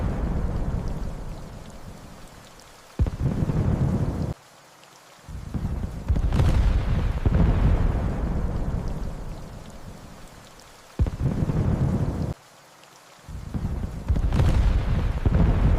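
Heavy rain pours steadily on a stormy night in an animated horror story, with deep thunder rumbles rolling in and the downpour cutting off abruptly several times.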